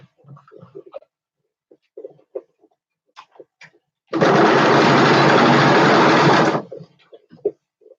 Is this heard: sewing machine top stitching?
yes